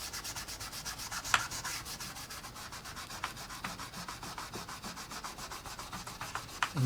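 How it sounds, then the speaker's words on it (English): A fingertip rubs charcoal weathering over panel lines on a Warbirds Replicas FW190 model plane, a soft, close, rhythmic scratchy rubbing with quick repeated strokes and a few sharper ticks, no voices. "And you notice when I'm rubbing it here, there, again, that's not as intense as the black."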